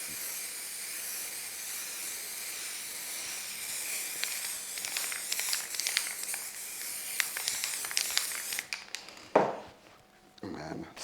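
An aerosol can sprays a snow effect onto a model railway diorama in a long steady hiss with short sputtering bursts, then stops, followed by a few soft handling knocks close by.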